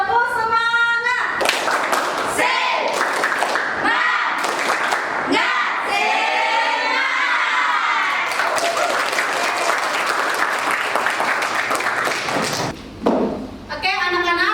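Schoolchildren in a classroom performing the tepuk semangat spirit clap, a patterned sequence of loud unison claps and thumps punctuating their chanted voices, close and energetic throughout.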